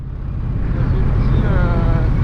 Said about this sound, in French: Là la petite sonorité de la Volt est sympa